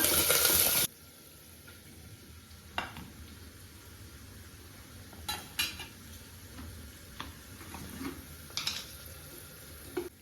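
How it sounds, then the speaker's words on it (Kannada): Green chillies fry in a pan for beetroot pulao, giving a low, steady sizzle broken by scattered clinks and scrapes of stirring; no one speaks. "ನೆಕ್ಸ್ಟು ಚಿಲ್ಲಿ, ಇದೆರಡು ಫ್ರೈ ಮಾಡೋಣ"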